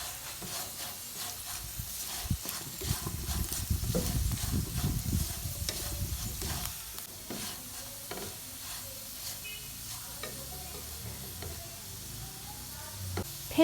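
Potatoes fry in a pan with chili powder, cumin, garam masala and turmeric for a crispy aloo fry, giving a steady close sizzle with scraping stirs that swell loudest in the middle, then settle to a softer crackle.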